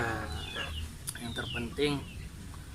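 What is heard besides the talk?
Pelung chickens crowing at a farm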